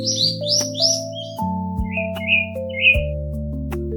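Short, bright heron calls sound in two bursts, three squawky chirps and then three more, laid over a plucky melodic backing tune that steps along underneath.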